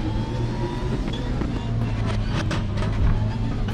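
Engine of a car in a racing video game, a steady droning motor with rising tonal whine and faint wind-like noise, continuous and fairly loud with no voices.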